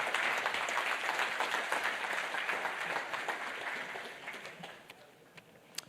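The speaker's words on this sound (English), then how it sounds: "Let's have a round of applause for our loyal attendees." Conference attendees at a Zabbix Summit applaud their long-time loyal attendees, a full, steady round of clapping that gradually thins and fades toward a few scattered claps at the end.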